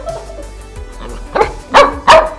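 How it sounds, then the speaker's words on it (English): A puppy gives short, sharp yips and barks, first a faint one and then two louder bursts close together near the end, with no talking over them. "Playing with a puppy for around 20 minutes."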